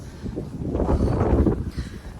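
Wind gusts across an open hilltop overlooking Brno, Czech Republic, a steady low rumble buffeting the microphone that swells in the middle and eases off, with no voices.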